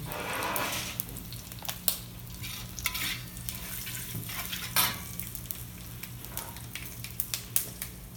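Hing and ginger sizzle in hot oil in a pan after fenugreek, a steady close frying hiss broken by occasional stirring clinks and scrapes.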